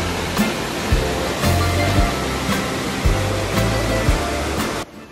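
A monsoon river near Dehradun rushes loud and close in a continuous broadband roar, with low thumps and handling bumps scattered through it and a sudden cut near the end.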